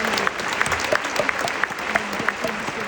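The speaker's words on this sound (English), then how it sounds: "Can you give yourself a round of applause?" An audience at a doTERRA gathering applauds itself: steady, dense clapping from a large crowd that holds at an even level throughout, with some individual claps standing out close by.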